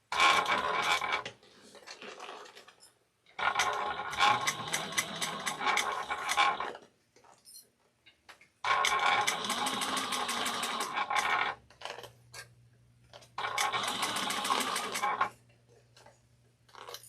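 Sewing machine stitching a bag, running in four rapid mechanical bursts of a few seconds each, separated by quiet pauses, with a low hum under the later gaps.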